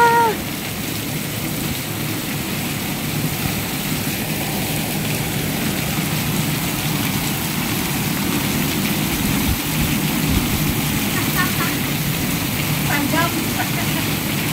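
Heavy rain pours down in a steady, dense wash, with a low engine-like rumble underneath and brief voices near the start and end.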